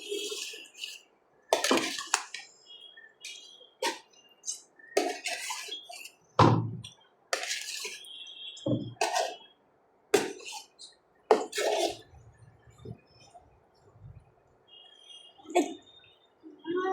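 Meat curry stirred in a cooking pot, giving a series of sharp metallic scrapes and clinks of a spoon against the pot in an irregular rhythm, close and fairly quiet with no talk.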